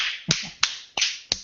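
Four sharp, evenly spaced one-handed claps against the palm, made close to the microphone, crisp and isolated with brief decays between them and no talking.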